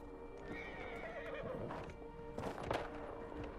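Horse in the fantasy game Dragon Age: Inquisition whinnies loudly during a race, a rising, wavering neigh followed by snorts and a burst of clip-clopping hooves and clattering close by.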